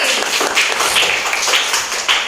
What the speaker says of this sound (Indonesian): tepuk tangan dulu untuk Septi